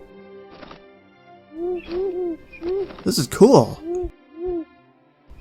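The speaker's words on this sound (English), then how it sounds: "There are so many owls in here." Owls hoot repeatedly in the Owlery of the Hogwarts Mystery video game, several soft rising-and-falling calls overlapping through the middle, with a brief excited voice speaking among them.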